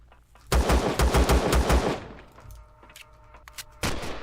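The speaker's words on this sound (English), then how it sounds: "Let's see who else is shooting at me." Rapid bursts of automatic turret gunfire in the space-building game Empyrion, a loud close volley of about eight shots followed by scattered fainter shots and a final sharp blast.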